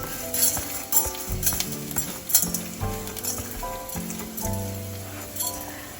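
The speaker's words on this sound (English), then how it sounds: "This has its own uniqueness by sauteing these ingredients in the oil." Dal and coriander seeds sauteing in hot oil on a low flame, a steady close sizzle with intermittent scraping and stirring strokes of a spoon in the pan.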